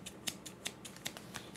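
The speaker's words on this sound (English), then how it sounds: "get a pair of scissors to open this up" Scissors snip through a packet of yeast in a home kitchen, giving about eight quick, crisp cuts in a steady rhythm, close and fairly quiet, with no talking.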